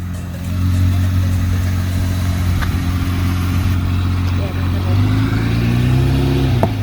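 Vehicle slowly driving over a 40-inch off-road tire to unseat its bead while mounting beadlocks, a steady low engine rumble close by with a slight rise in revs near the end.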